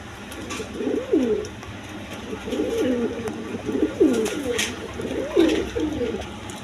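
Pigeons coo repeatedly in soft, rolling phrases, several calls spaced a second or so apart, close by amid light background noise.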